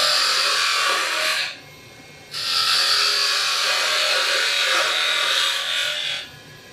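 A Les Thorne half-inch spindle gouge cuts a bead on a wood lathe, giving a close, steady shearing hiss in two long passes separated by a short pause.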